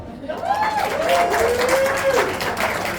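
An audience at a comedy show claps in a loose, crackling burst while a high, drawn-out voice rings over the clapping throughout.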